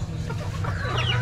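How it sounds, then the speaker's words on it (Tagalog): Wild junglefowl cluck in a short, soft burst of clucking calls outdoors, with no talk over them. "Ayun pala labuyo ni paring Kanoy"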